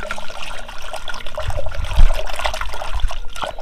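Water poured into raw green mango sharbat, a steady close trickle and splash with small surges, heard alone without talk.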